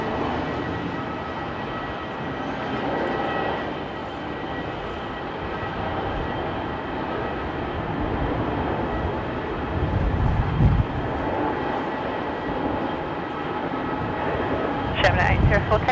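An Airbus A220 jet taking off for Brisbane at Melbourne Airport, a broad, steady engine roar held at a distance for the whole stretch while people talk over it.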